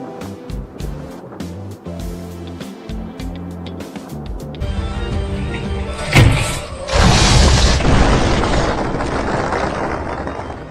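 A sudden loud boom from an aircraft explosion near the Mukilteo Highway bursts out midway, followed by a sustained roaring rumble, after a quieter stretch with rhythmic mechanical noise.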